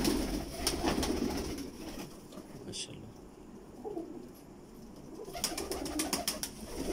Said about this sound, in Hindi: ये मेरा ना डबल कबूतर है